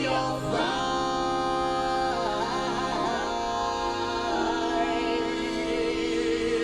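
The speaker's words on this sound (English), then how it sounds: "last vocals to look at are really the talk box vocals" A song intro carries talk box vocals. Gliding, vowel-shaped synthetic tones bend and slide over a sustained harmonic bed, loud and continuous with no plain speech.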